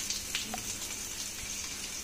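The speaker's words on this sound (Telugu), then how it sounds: "తాలింపు దోరగా వేగింది, అందులో సన్నగా తరిగిన ఉల్లిపాయ ముక్కలు." Mustard seeds and finely chopped onion frying in hot oil in a pan, a quiet, steady sizzle with faint crackles and pops, no voices.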